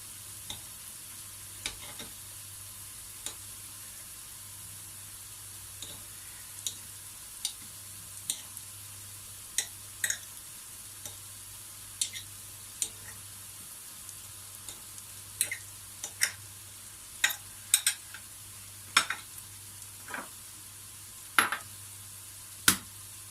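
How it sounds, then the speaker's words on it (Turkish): Vegetables sauté in a pan, a steady sizzle with a low constant hum beneath, punctuated by sharp utensil clicks and scrapes from stirring that grow more frequent toward the end. "Sebzelerim kavrulurken"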